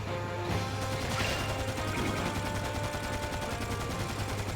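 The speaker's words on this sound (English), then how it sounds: "that's why you can hear like the gunshots" Gunshots in the video game Dark Cloud 2 come as a dense rattle of rapid fire and crashing impacts, continuous and moderately loud with no talk.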